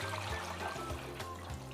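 Water trickles and pours into a cooking pot of sautéed chicken for a noodle soup, a quiet, steady splashing stream close by.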